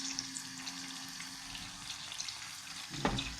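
Pork belly frying in a pan: a faint, steady hiss of sizzling fat fills the whole stretch, with a brief louder scrape near the end.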